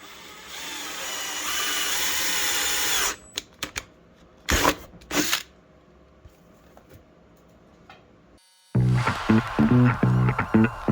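Power drill boring several large holes in the side panels of a CFMOTO ZFORCE UTV for an Inferno cab heater install; loud sustained drilling, then short bursts, a quiet pause, and a final stretch of harsh buzzing.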